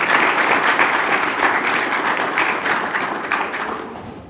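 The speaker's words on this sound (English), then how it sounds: "Let's give him a round of applause." An audience at a discus-throwing coaching session breaks into a round of warm, sustained applause that tapers off gradually over a few seconds.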